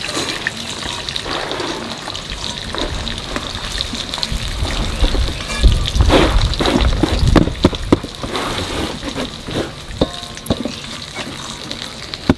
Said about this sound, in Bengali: মোচা কাটা হয়ে গেছে, এখানে জলের মধ্যে হলুদ দিয়ে একটু সময় ভিজিয়ে রাখবো।